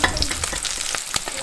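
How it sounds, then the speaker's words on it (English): Plant-based bacon sizzling and crackling as it fries in a pan, a dense close hiss with scattered sharp pops throughout. "It really sizzles like bacon."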